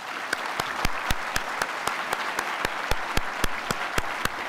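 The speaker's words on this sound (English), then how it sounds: "Please give the candidates a round of applause." Audience applause at the close of the Toronto 2014 mayoral debate with Rob Ford, John Tory, Olivia Chow and David Soknacki, a steady dense clapping from a large hall crowd with sharp individual claps standing out throughout.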